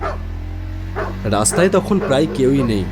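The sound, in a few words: dogs barking in the distance at night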